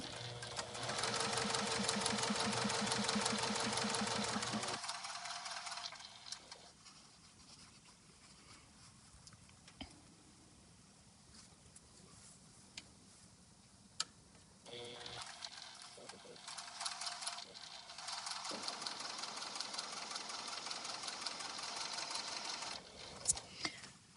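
A sewing machine chain piecing quilt pieces runs in rapid steady bursts at the start and again near the end, with a quieter pause between where faint handling sounds are heard.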